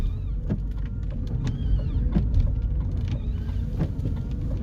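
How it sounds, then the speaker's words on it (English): Windscreen wipers on a car sweep back and forth with a rhythmic squeak and motor whir every second or so, over the low rumble of the car interior. "So, there's the windscreen wipers."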